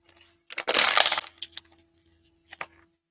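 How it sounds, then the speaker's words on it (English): An empty plastic water bottle squished down by hand, a loud crinkling crunch burst followed by a few smaller crackles and a final short crunch, close up. "When I get done with a bottle of water, I squish it down and put the tap on it."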